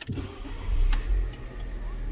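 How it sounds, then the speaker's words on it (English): A Fiat Punto Evo Sporting engine cranking briefly and catching into a low, steady idle close by, heard alone without talk. "Engine starts great."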